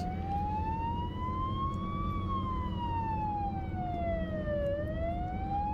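A European emergency vehicle siren wails continuously, rising and falling slowly in pitch, heard over a constant low engine and road rumble.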